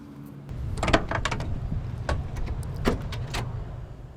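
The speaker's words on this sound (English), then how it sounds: "Very smooth opening doors." Door of an un-restored 1967 Chevrolet Camaro RS opening smoothly, a few close mechanical clunks and latch clicks over a quiet background, no talking.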